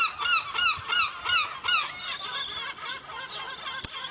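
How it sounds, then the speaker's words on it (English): Seagulls call in a run of repeated honking, laughing cries, loud and close at first, then fainter and more scattered, with no talking. "You may have to get used to the seagulls if this is your first time."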